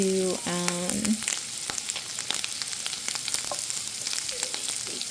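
Butter melting in a pan as the start of a plain gravy, giving a steady close sizzle and crackle. A few brief scraping stir sounds come near the start.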